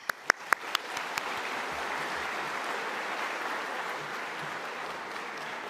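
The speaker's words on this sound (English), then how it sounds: "Please give him a round of applause." A large crowd applauds at a university business school welcome event. Several sharp close claps come first, then a broad, steady wash of clapping from across the hall continues evenly to the end.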